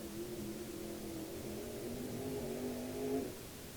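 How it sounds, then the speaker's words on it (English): Modified dirt-track race car doing donuts after a feature win, engine revving in a steady sustained drone that rises briefly before cutting off, heard from a distance. "Oh, a little donut action."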